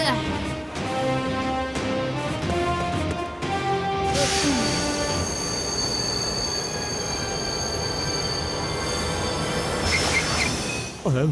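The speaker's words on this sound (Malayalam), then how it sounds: "ഇനി ട്രെയിൻ മുന്നോട്ട് കൊണ്ടുപോകാനാവില്ല" A train's wheels screech and squeal on the rails as it slows, grinding metallic noise filling the scene before a high whine lingers near the end.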